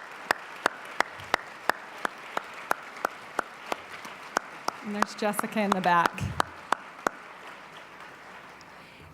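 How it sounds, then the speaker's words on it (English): Luncheon audience giving a round of applause, heard as a sparse, evenly spaced series of sharp claps, fairly close, while a voice speaks briefly over the middle before the clapping fades out. "let's just give them a round of applause"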